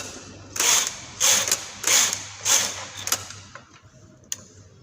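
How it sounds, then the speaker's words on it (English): A knitting machine carriage is pushed back and forth across rows of yarn, giving repeated rattling, clicking mechanical sweeps in a steady rhythm, close up, which then trail off into a few scattered clicks. "just knit across with a few rows so that we can remove our work from the machine"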